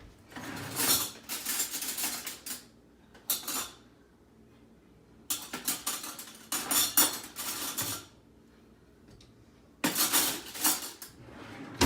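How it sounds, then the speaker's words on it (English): Cake fudge mixture is spooned into baking pans, giving bursts of clinking and scraping of a spoon against the pans. The bursts are close and come in clusters separated by short quiet gaps, with no talking. "I'll just put half in this pan and half in this pan"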